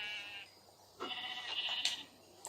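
Sheep in a survival video game bleat in a few short, nasal cries, the calls close and fairly soft with gaps between them.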